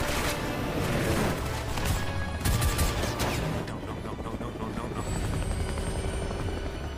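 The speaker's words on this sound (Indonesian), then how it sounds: "Setelah berhasil mengambil alih kendali helikopter, Ethan diharuskan menghadapi helikopter Welker." A helicopter roars loud and close throughout a film chase, its rotor thrumming steadily while gunfire and a crashing impact burst through near the start.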